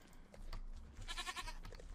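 A goat in the video game Minecraft gives a few short, nasal bleats close by, in quick bursts with brief gaps, and no speech over them.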